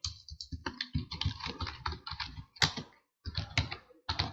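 Typing on a computer keyboard, close and clear, with quick uneven clusters of key clicks and a brief pause midway before the tapping resumes.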